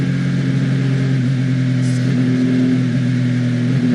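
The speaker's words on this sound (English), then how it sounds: "Listen to the car" Race car engine at the Bahrain 8 Hours endurance race, a steady loud mid-pitched drone that holds at constant revs for a few seconds, with no talk over it.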